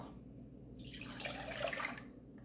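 Milk pours steadily into a saucepan in a home kitchen, a soft liquid splash that swells for about a second and then fades over a low background hum.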